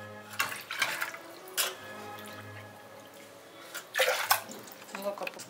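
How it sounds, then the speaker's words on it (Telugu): Cups of water are poured one after another into a pressure cooker for sweet pongal, making short splashing gushes with quieter gaps between them while a person talks throughout. "6 కప్స్ వాటర్ పోసుకోవాలి."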